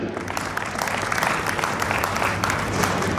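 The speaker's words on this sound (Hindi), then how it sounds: "तो सबसे पहले मैं आपसे अनुरोध करूंगा कि आप कृपया अपने लिए ताली बजाएं।" A packed hall audience at a civic gathering in Gwalior claps together in a dense, steady wash of applause that holds at an even level throughout, with some crowd murmur mixed in.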